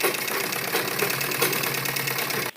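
A sewing machine runs a steady, fast rattling hum while stitching the folded edge of fabric for a small child's Afghani salwar dress. It runs unbroken for a couple of seconds and then stops abruptly.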